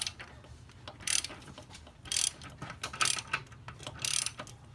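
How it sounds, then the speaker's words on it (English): A ratchet wrench on the lower downpipe bolt of an Infiniti Q50 clicks in four separate bursts of rapid ratcheting, with quieter mechanical handling between them. "Now we're going from the top to break loose the one bolt."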